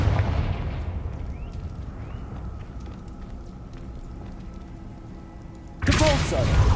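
A fire-blast spell cast in the Hogwarts Legacy game: a low booming burst at the start decays into a rumbling tail, with faint magical whooshes, then another loud burst erupts near the end.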